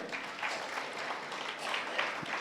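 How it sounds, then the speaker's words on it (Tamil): An audience at a Christmas celebration in Tiruchirappalli gives a short burst of steady, moderately distant clapping with no speech over it. "எல்லோரும் கைத்தட்டலும்."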